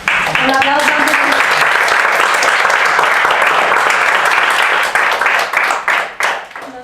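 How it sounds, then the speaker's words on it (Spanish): Audience applause at a public talk about Russia and Ukraine, a dense burst of many hands clapping loudly for several seconds before tapering off into scattered claps. "un aplauso"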